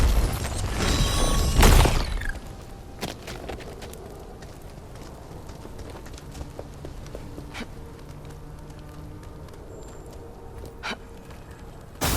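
Elevator machinery in a video game: a loud mechanical clanking burst opens, then a low steady hum with scattered metallic clicks and knocks carries on alone.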